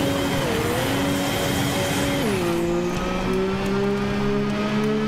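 Engine of a vehicle driven in Borderlands 3, a steady loud motor drone whose pitch dips sharply midway as it shifts or slows, then holds a lower hum, with a faint tire squeal.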